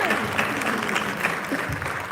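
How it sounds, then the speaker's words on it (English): A real estate panel audience applauds for Natasha: a close, continuous burst of many hands clapping, even and full for its short length, with a faint voice underneath. "y'all better clap for Natasha"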